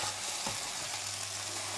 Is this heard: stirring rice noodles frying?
yes